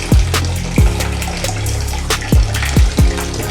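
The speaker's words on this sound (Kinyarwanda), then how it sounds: "Reka mfunga aya mazi ariko kugisafuriza." Water runs from a kitchen tap in a house in Kigali, splashing close and loud, with repeated gurgling bursts landing at an uneven rhythm and no voices.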